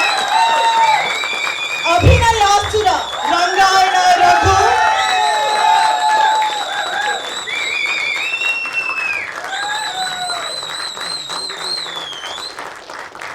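Loud applause and cheering from a crowd honouring actor Rangayana Raghu, sustained clapping with whoops throughout while a voice speaks over it.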